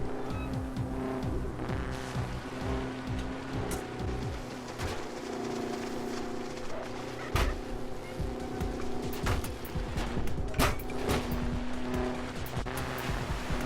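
An off-road Bandito Buggy in the game Trailmakers drives over rough terrain, its engine droning steadily with tire and suspension rattles and a few sharp bumps, loud and continuous throughout.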